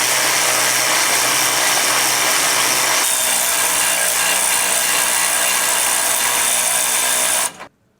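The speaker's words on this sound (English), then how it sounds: "From here I'm using a 15 millimeter socket to run it up." A power tool with a 15 mm socket runs a bolt up while mounting helper springs on a 2020 Forest River Georgetown motorhome, a loud, continuous whirring drone for about seven seconds that then cuts off abruptly.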